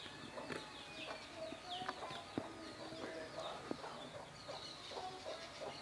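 Chicken clucking in a backyard vegetable garden, soft scattered clucks and short calls at a moderate distance over steady outdoor background noise, with occasional faint talk.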